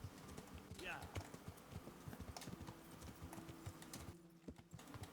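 Horse hooves clip-clop in steady repeated beats as a rider travels in Kingdom Come: Deliverance, close and fairly soft, with a faint neigh early on and someone talking over the hoofbeats.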